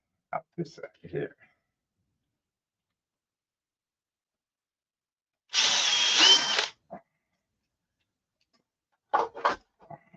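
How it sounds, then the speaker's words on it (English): A single sustained burst of power drilling a hole in a Flite Streak 8 model airplane, about a second long, set between brief clattering handling noises before and after. "So we need to drill this hole up this side here."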